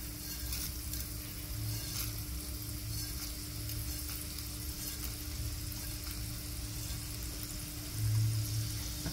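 Chana dal and urad dal crackle in hot oil in a small kadai, a soft, continuous sizzle with a faint low hum underneath and a slight swell near the end.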